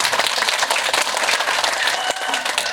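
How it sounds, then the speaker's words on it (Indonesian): An audience at a madrasah parenting gathering claps and applauds, a dense, even burst of hand claps that stays loud throughout. "Tepuk tangan dong."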